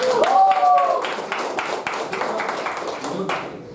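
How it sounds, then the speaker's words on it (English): A small meeting audience gives a round of applause, scattered individual claps rather than a dense roar, with a voice speaking over them. "a big round of applause for them"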